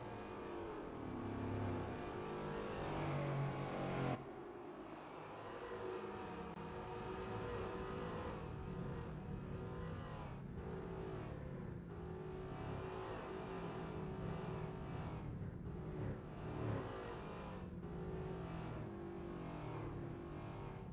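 Several Ford Crown Victoria P71 spec race cars in a sim racing series at Buttonwillow drive the track together, engines droning and revving through gear changes, steady and fairly close, with one abrupt shift near the start.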